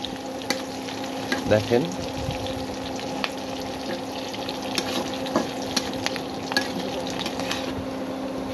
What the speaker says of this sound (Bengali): রসুন, সাথে মরিচও আছে। এই জিনিসটাকে আমরা লাল লাল করে ভেজে নিব।